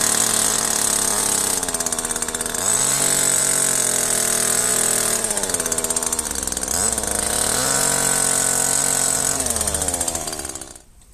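A chainsaw cuts through the top of a wooden strainer post for fencing, its engine snarling loud and steady close by, dipping and rising in pitch as it bites into the wood, then cutting off at the end.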